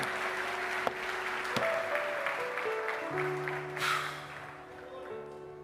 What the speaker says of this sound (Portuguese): Você pode aplaudir Jesus e ficar em pé